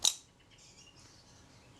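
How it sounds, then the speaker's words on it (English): A Retina Reflex S camera shutter fires on the B setting with one sharp mechanical click, followed by a faint whirring run that fades into quiet. "cock it, and we'll see if the shutter fires."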